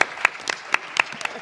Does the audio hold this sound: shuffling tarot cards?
no